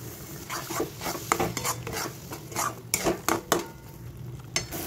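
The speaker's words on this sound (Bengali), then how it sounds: "মিডিয়াম ফ্লেমে মশলাটাকে ভালো করে কষিয়ে নেব" A spice paste frying over a medium flame for a rui fish-head curry, stirred hard with a utensil. Repeated scraping and clinking strokes against the pan ride over a low, continuous sizzle, close and fairly loud.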